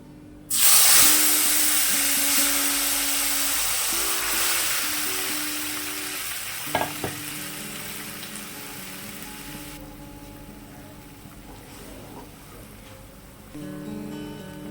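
Kalmi greens hit hot oil seasoned with black cumin, bursting into a loud close sizzle that slowly fades to a softer hiss, broken by a few utensil knocks and stirring sounds, without any talking.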